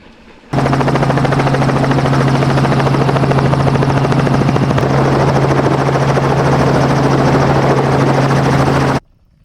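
A helicopter hovers overhead while filming a mountain bike race descent, its loud, steady rotor chop and turbine whine holding constant for several seconds before cutting off abruptly.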